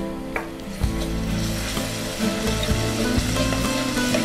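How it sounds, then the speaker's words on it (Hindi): Garlic paste sizzles steadily in hot oil with lightly browned onions, a close, continuous frying crackle with a few soft stirring bumps. "हल्की प्याजी हो चुकी है प्याज, अब इसमें हम डाल लेंगे लहसुन का पेस्ट।"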